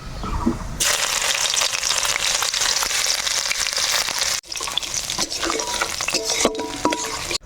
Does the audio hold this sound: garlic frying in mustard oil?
yes